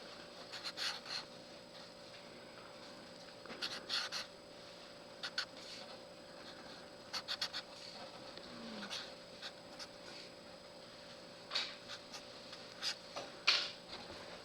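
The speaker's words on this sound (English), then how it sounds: "I will write point slope form up here" Marker or chalk strokes on a classroom board, faint scratchy bursts in short clusters separated by pauses, quiet against a steady background hum.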